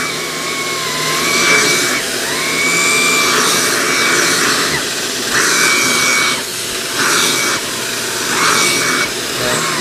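A Shark Apex vacuum with its TruPet mini-motorised attachment working on a couch, a loud, steady whine and roar with a tone that rises and falls in several waves as the angle and suction change.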